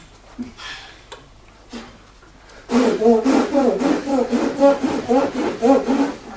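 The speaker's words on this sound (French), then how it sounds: "Pendant que moi je te cloue, je te rabote, je te racle" A carpenter planes and scrapes wood in a brisk rhythmic series of rasping strokes, loud and close, after a few scattered knocks and scrapes.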